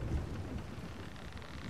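A thunderstorm in the pirate game Sea of Thieves, with a low thunder rumble at the start over a steady wash of rain that continues evenly to the end, moderately quiet and without voices.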